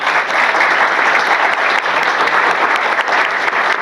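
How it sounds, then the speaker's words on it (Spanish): A conference audience claps steadily throughout for four speakers, a sustained round of applause that stays even from start to finish. "Pido un aplauso para los 4 conferencistas."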